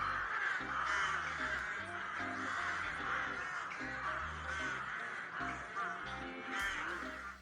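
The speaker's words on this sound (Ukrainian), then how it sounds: "Граки схожі на ворон, але мають довший дзьоб і живуть великими колоніями." A rook caws repeatedly, harsh rasping calls in an irregular series against a faint steady background, fairly close and alone without talk.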